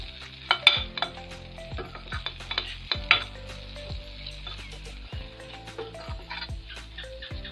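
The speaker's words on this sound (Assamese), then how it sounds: "লৰাই থাকোঁ" A spoon stirs besan-coated bhindi bhaji frying in an uncovered pan, giving irregular scraping and clinking against the pan over a low sizzle.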